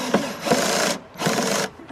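A screwdriver drill drives a screw into a plastic Mailmaster Hudson mailbox with planter, sounding as two close, steady buzzing bursts of about half a second each, with no talking.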